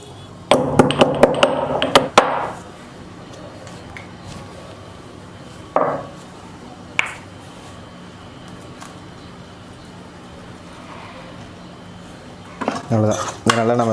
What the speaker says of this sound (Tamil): இதை நல்லா நம்ம மிக்ஸ் பண்ணிக்கிறோம்